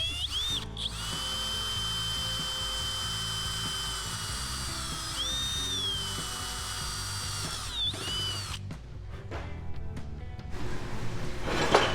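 A drill whines steadily while boring out the end of a crack in a Mini Cooper part, its pitch shifting under load, then it stops and a few sharp clicks and knocks follow before the whine returns briefly.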